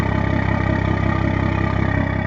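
A 2019 BMW M240i idles through a catless Phase 3 Performance downpipe with no resonators or mufflers, giving a loud, steady, close-up rumble with a pulsing low throb.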